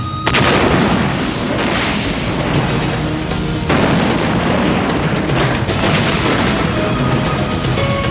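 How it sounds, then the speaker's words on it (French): A loud, close explosion erupts in a deep boom, followed by a sustained roaring rumble with a second heavy blast partway through, dense debris noise filling the scene without talk. "Cette explosion vient de mettre un terme à l'antidote Fodex."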